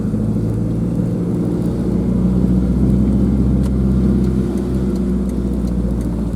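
A Toyota 3RZ engine in a Hilux idles with a turbo-style exhaust, making a loud, steady low rumble close by, unbroken and with no talk.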